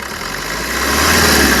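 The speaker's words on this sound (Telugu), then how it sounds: "ఇంజన్ యొక్క నాయిస్ చాలా సైలెంట్గా అయితే ఉందండి." A 2017 Maruti Suzuki Brezza ZDI Plus diesel engine idles in a steady, even hum that grows slightly louder and rougher toward the end, heard close with no talking.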